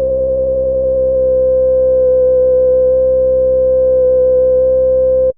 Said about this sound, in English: Let's just test what we do as we increase the resonance.